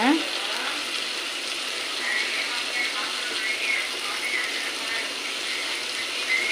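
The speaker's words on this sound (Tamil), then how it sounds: "இது அப்படியே இந்த எண்ணெயிலே நல்லா வதங்கட்டும்" Green turkey berries sauté in hot oil in a village-style Tamil kitchen, giving a steady, even sizzle of moderate loudness that continues throughout without a break.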